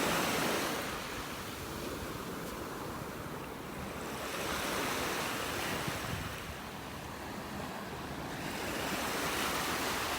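Ocean waves washing onto a Gulf beach in North Naples, Florida at low tide, a steady surf roar swelling and easing in slow surges, mixed with wind rumble and no voices.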